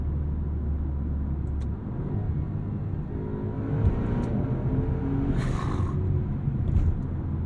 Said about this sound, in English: I love the sound of that upshift.